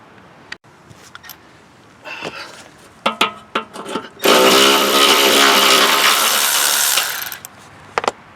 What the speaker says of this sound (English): You get my battery-powered ratchet.